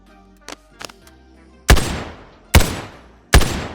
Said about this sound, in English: Let's listen to some gunshots.